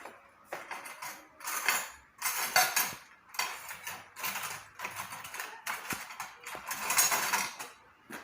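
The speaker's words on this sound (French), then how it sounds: "On prend une cuillère." A metal spoon clinks and scrapes against a bowl of warm sugar cream made for donuts, a series of bright, close clattering bursts in an irregular rhythm with no talking.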